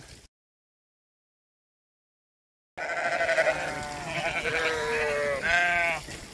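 Sheep bleating on a home pasture after a grazing weekend, several overlapping wavering bleats from a small flock close by, starting abruptly after a stretch of silence.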